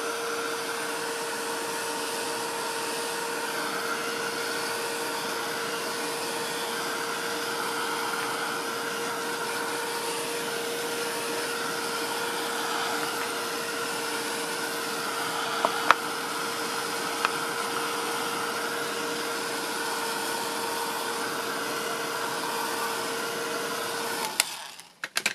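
Hair dryer blowing over a paint and gesso background on tissue for a notelet, a steady continuous whir with a constant tone, running alone for about twenty-four seconds before cutting off with a few handling clicks.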